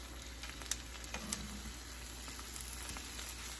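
Salmon fries in a pan over medium heat with a low, steady sizzle and scattered faint pops and light taps, fairly quiet and without talking.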